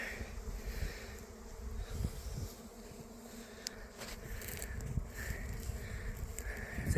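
A honey bee swarm in flight outdoors, a dense continuous buzzing hum of many bees with individual insects droning closer and passing by, moderately loud throughout, with no talk.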